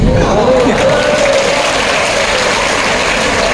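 Crowd at a political rally in Bahraich breaks into loud, sustained applause and cheering, a dense, even wash of clapping with a voice briefly rising above it.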